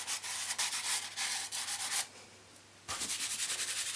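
Vine charcoal rubbed with its flat side across drawing paper to lay down shading tone, a close, continuous scratchy rasp in repeated strokes with a brief pause midway.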